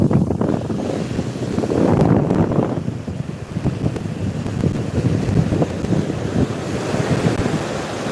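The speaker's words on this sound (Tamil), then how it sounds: "அலை வேகமாக வருது" Sea waves rush steadily onto a local beach, a continuous loud surging wash with gusty wind buffeting the microphone throughout, no voices.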